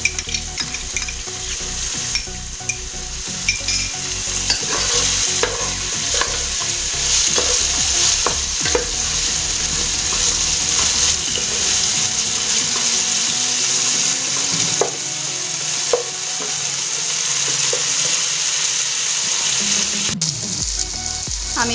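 Chopped green chillies sizzling in hot oil in a pan while cooking mator rice, a loud steady frying hiss with repeated scrapes and clinks of a stirring spoon, no talking.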